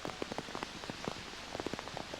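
Rain pattering steadily on an outdoor show jumping arena at a competition at La Bagnaia, with scattered close drops ticking over a soft continuous wash and no voices.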